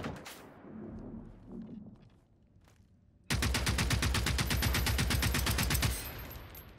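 Enemy gunfire in Generation Zero: after a few quieter shots and a lull, a loud, steady rapid-fire burst of evenly spaced shots rattles for nearly three seconds before cutting off.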